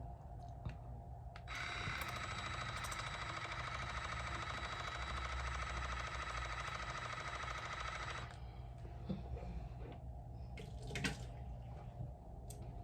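A Bitvae water flosser sprays steadily inside a mouth for about seven seconds, a dense hissing jet with a faint motor hum, starting and stopping abruptly amid quieter background noise.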